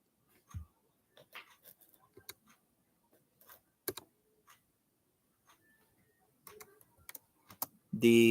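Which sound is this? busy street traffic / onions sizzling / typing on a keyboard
typing on a keyboard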